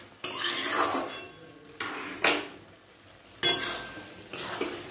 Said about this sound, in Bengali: আমি ঢাকা খুলে আরেকবার নেড়েছিলাম, কুমড়ো আলু সেদ্ধ হয়ে গেছে প্রায়।